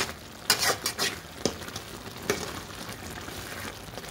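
Food cooks in a pan with a steady low sizzle, broken by a few sharp clicks and scrapes from stirring, close and fairly quiet.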